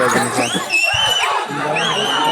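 Crowd at a bullock cart pulling contest shouting and whistling loudly, with whistles that rise and fall over a busy roar of voices close by.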